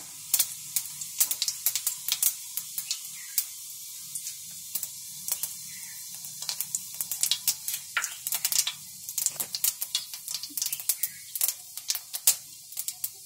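Cumin seeds crackle in hot oil in a pan for a cluster bean dish, with steady popping and spitting spread through a soft background hiss, fairly close and with no talk.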